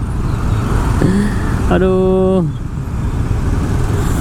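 Congested traffic crawling along Jalan Raya Canggu in Bali, a steady broadband roadway rumble with a brief horn-like tone partway through, and a voice exclaiming once over the engine noise.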